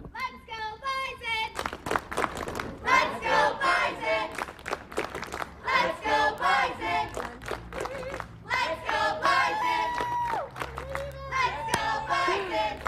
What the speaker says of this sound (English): So Mackenzie's going to lead us off in another cheer